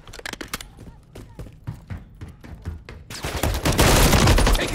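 Rapid gunfire in MW3 on the Terminal map, sharp repeated shots building into a dense, loud burst of automatic fire near the end, with brief radio-style voice callouts.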